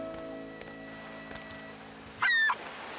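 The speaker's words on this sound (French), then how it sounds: "Regarde, des goélands." A single brief, high seagull call rings out at a cartoon beach over a quiet, steady background, faint overall with one louder cry near the end.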